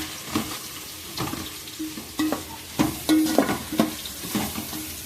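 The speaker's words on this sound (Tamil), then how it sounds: "இது ஒரு பக்கம் பொரிஞ்சுக்கிட்டு இருக்கட்டும்." Pandari fish frying in a hot pan while being stirred, with a steady oil sizzle and repeated scraping strokes of a spatula against the pan at an irregular rhythm, close and fairly loud, with no talking.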